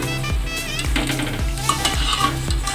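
Thekua frying in oil over a low flame, a steady close sizzle broken by rhythmic scraping strokes about every half second as the pieces are stirred, with no talking.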